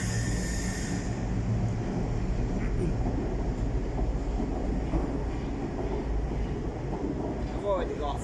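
A train passes through Nottingham station on the Midland Main Line, a loud, steady rumble of wheels and engine that fills the whole clip, close by with a continuous roar and faint voices underneath.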